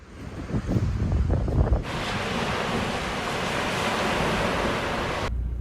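Ocean waves break on a beach, a steady broadband wash with gusty wind buffeting the microphone and a few low thumps at first, heard alone without voices.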